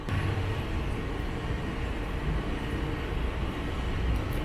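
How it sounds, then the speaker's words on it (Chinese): Small funicular car of Angels Flight in Los Angeles rumbling up its incline, a steady close low rolling drone with no speech. "刚刚体验了一下坐这个小火车上来。"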